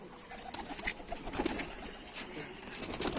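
Pigeons of a jungle-blood line coo softly amid other bird calls and faint wing flutters, with low, rounded coos repeating among a busy loft background.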